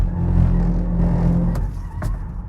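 MG4 EV rear-wheel drive electric car drifting, a steady low drone of motor and tyre roar close by, with a couple of brief bright bursts like tyre scrub near the end.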